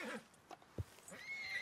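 A horse in the Red Dead Online video game whinnies briefly, followed by a soft hoof clop, near and quiet over faint game ambience.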